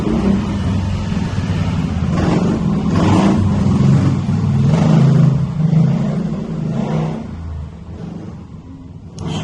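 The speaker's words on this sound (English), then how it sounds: "that was two motorbikes going past" Two motorbikes rumble past nearby, swelling and fading in a couple of waves as they go by, loud and throaty.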